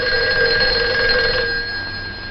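A telephone bell rings continuously in an old black-and-white mystery film, a loud, steady metallic trill that holds for about two seconds and then eases slightly, with no talk over it.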